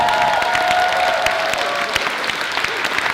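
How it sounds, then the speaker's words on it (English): Applause from an event audience after a speaker introduces his wife on stage, dense steady clapping with some cheering, a faint voice briefly audible at the start. "Give her a round of applause"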